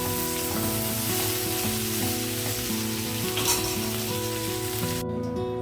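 Broad beans (chikkudukaya) fry and sizzle in a pan on low heat, making a steady, continuous crackle with faint stirring throughout.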